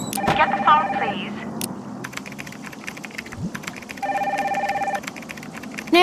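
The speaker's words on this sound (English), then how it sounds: "Get the phone, please." In the Nancy Drew game Danger By Design, a telephone rings in two bursts, separated by rapid computer keyboard typing, close and clear in an office.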